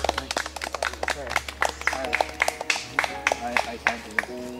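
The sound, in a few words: round of applause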